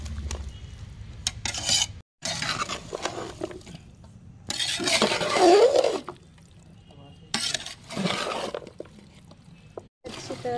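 Chicken is stirred with meat masala in a pot for a curry, giving bursts of wet scraping and spoon clatter against the metal, broken by short pauses, near and fairly soft.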